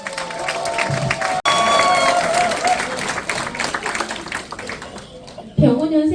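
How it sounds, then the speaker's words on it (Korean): A crowd at a political party's New Year gathering breaks into applause to welcome a speaker, dense clapping that swells and then tapers, with a voice over a loudspeaker talking over it before a brief final burst. "뜨거운 박수로 맞이해 주십시오"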